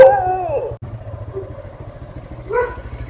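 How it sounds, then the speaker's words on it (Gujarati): A dog gives a howling bark close by, followed after a pause by a second shorter yelp, with a low engine idling underneath throughout. "મિત્રો જોવા કૂતરા એટલા ભહે"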